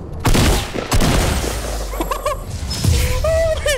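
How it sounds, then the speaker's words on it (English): Grenades go off in a Fortnite match with several sharp, loud blasts spaced a second or two apart, mixed with crackling gunfire and other game effects. "He's throwing grenades from over there."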